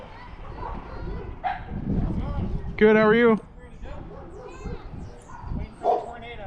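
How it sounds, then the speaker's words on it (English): A pet dog barks a few times in a home while someone plays with a Losi 22S sprint car RC racer, the short yips and bow-wows rising over steady talking, one strong burst standing out near the middle. "my dog's barking"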